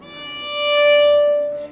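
A single sustained instrumental note that starts softly, swells to its loudest around the middle, then eases back down, played alone.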